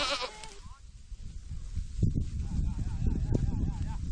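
Goats bleat on a livestock farm in Changsong County, with a couple of wavering calls rising above a rough outdoor din. A narrator's voice runs underneath.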